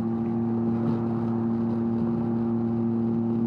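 Can-Am Ryker three-wheeler running a loud Two Brothers S1R exhaust, a steady droning engine note with strong low harmonics, close and constant throughout with no pauses.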